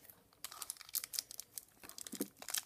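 Scissors snipping and crinkling through plastic packaging of a Megahouse Dragon Ball Yura Kore trading figure, a run of close, sharp rustling cuts and crackles with brief pauses, quiet and alone.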